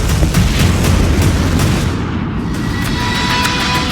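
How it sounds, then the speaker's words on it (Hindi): A big explosion at the Novorossiysk naval base: a loud, rumbling roar fills the whole stretch, heavy and sustained with crackling low booms. "और फिर नोवरोसिस्क अड्डे पर होता है बड़ा धमाका"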